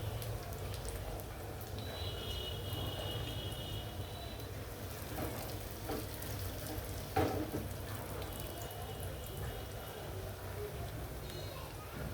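Lentil and potato pakoras frying in hot oil, giving a continuous low bubbling sizzle throughout with a few faint clinks, while a person talks over it.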